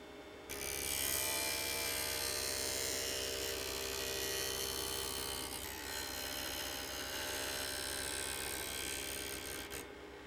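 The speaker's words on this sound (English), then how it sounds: "trace the profile you want and grind to that line. Grind the bevel to about 35 degrees." A plane blade being ground to a bevel on a grinder gives a steady, loud, continuous rasping whine from start to finish, with a slight shift in tone midway and no voices.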